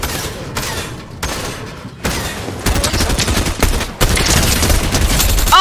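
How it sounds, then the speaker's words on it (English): Gunfire in the video game Fortnite: bursts of rapid shots and fusillade that build in density and loudness over several seconds, dense and fairly close, with no talk over them. "is somebody shooting at me?"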